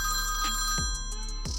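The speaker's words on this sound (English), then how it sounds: "I wanted my video to begin with a phone ringing." A telephone ringtone from a sound effects library trills brightly in repeated bursts, a loud electronic ring filling the short stretch alone.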